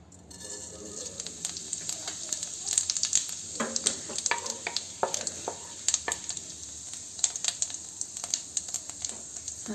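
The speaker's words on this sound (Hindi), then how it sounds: "तेल में हम रख देवे जीरा" Cumin seeds hit hot oil in a kadhai and crackle and sizzle up close, a bright steady frying hiss dotted with quick pops and some stirring, while cooking for an omelette curry.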